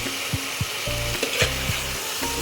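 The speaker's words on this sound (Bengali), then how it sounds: "দিয়ে ভালো করে নেড়ে নিচ্ছি" Fried potatoes are being stirred into a pan for Bengali vegetarian aloo dum, with a spoon scraping and knocking against the pan in several short strokes over a soft sizzle, close and clear, with no talking.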